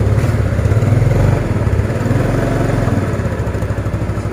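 Yamaha Mio Sporty scooter engine running just after a service, a loud close steady idle with a fast chugging rattle that eases slightly partway through.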